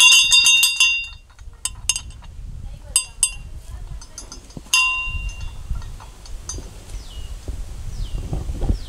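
Many old votive bells hanging at the Parvati cave temple in Bhojpur clink and ring in bright, irregular clusters, with lingering metallic tones, over rumbling outdoor noise and a nearby voice.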